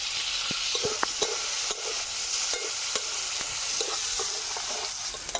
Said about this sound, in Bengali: একই তেলে আর একটু করছি। একটু নাড়াচাড়া করে নেব।